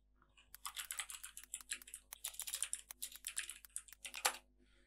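Rapid bursts of typing on a computer keyboard, close and fairly loud, with short pauses between runs of keystrokes and a firmer final key press near the end.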